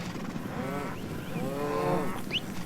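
Cattle on a drive moo twice, long drawn-out bellows at moderate distance over a soft outdoor background, with no talk.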